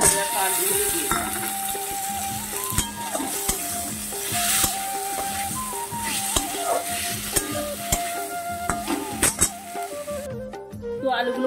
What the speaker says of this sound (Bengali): এবার আমি সেদ্ধ করে রাখা আলুগুলো দিয়ে দিলাম।